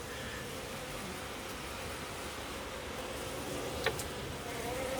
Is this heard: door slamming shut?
no